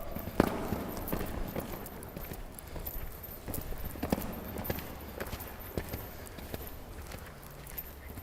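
A horse is ridden during a riding lesson, and its hooves clip-clop in a steady walking rhythm at moderate distance, with faint background noise.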